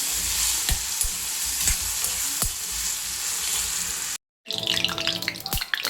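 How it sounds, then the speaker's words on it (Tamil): Curry leaves hit a hot frying pan of softened onion, garlic and tomato for a pirandai thuvaiyal. A steady sizzle runs under spoon clicks, drops out briefly, then bursts back louder and crackling. "கொஞ்சம் கருவேப்பிலை போடணும்"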